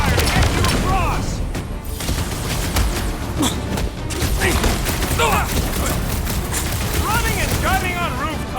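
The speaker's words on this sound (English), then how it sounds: "I'll lay down some cover fire to get you across." Sustained cover gunfire in the Guardians of the Galaxy video game roars in dense bursts with booms and mechanical clatter, loud and near, while characters talk over the fighting.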